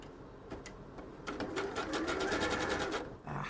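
A sewing machine basting a fabric mask runs in short stitching bursts at first, then settles into a steady, close rapid whir of needle strokes for about two seconds before pausing and restarting.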